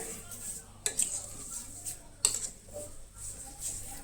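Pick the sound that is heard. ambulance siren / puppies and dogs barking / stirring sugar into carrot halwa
stirring sugar into carrot halwa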